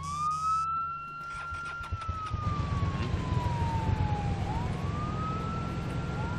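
A police car siren in the video game Arma 3 wails loudly and continuously, its pitch sweeping slowly down and back up over steady engine rumble, with no talk.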